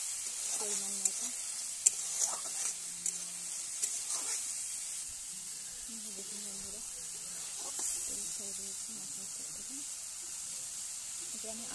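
Potatoes fry in oil for aloo dum, a soft, even sizzle running steadily throughout, with faint stirring and a voice talking quietly over it.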